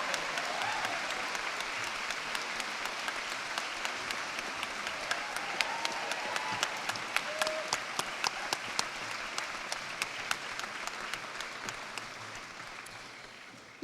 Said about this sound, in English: Big round of applause for our PME graduates this year.